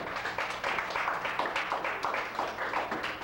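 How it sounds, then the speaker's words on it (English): An audience at an open mic show applauds steadily, a sustained bed of clapping at moderate volume with little else over it. "it's redundant to ask you to clap for them again"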